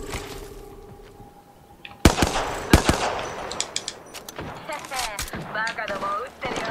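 Gunfire in Apex Legends erupts after a quiet stretch, with sharp shots and rapid bursts crackling close by. A voice talks beneath the shooting.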